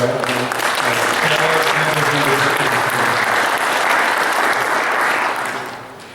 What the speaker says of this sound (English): So round of applause for the